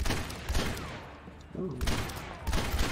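Ashe's rifle in Overwatch fires in bursts of rapid, punchy shots, with loud clusters of fire split by a short lull and a brief spoken exclamation.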